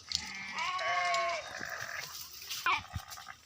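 Several sheep bleat close by at a large pond while drinking, overlapping calls in the first half, then a quieter stretch with a brief splash-like knock and another short bleat.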